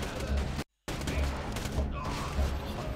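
A turret in the video game Borderlands 2 fires rapid continuous bursts of gunfire, loud and dense, broken by a brief dead-silent cut before the shooting resumes.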